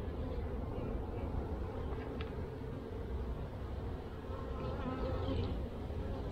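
Dense, steady buzzing of many honey bees swarming over an open hive frame, close and continuous, with faint handling noises underneath.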